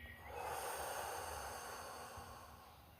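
A slow, steady breath out during a guided calming breathing exercise, a soft continuous airy exhale heard close and alone, swelling early and gently fading over several seconds.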